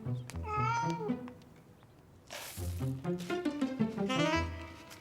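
A cartoon cat meows several times in quick succession, clear and close, with brief high cartoon voices in between.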